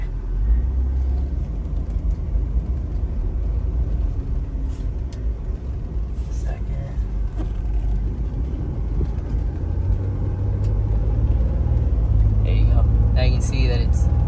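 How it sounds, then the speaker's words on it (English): A 2000 Isuzu Trooper with torque-on-demand four-wheel drive accelerating gently, its engine a steady low rumble heard from inside the cabin, with a person talking over it. "So if I just accelerate a little bit"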